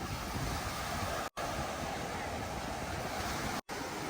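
Steady rushing surf on Jomtien Beach, Pattaya, with strong onshore wind buffeting a microphone, continuous and loud, with two brief dropouts into silence.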